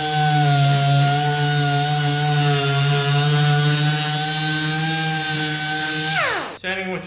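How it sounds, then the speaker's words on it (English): A power sander with hook and loop sandpaper runs steadily against a cabinet door, a loud, sustained hum with stable tones for about six seconds before winding down abruptly near the end. "Sanding with your hook and loop paper."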